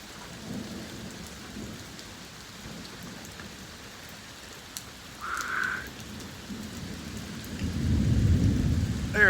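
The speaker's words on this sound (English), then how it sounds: "There it is. Thunder." Severe thunderstorm at night in Fayetteville, Georgia: steady rain patters throughout while thunder rolls in low and distant, swelling into a louder rumble toward the end.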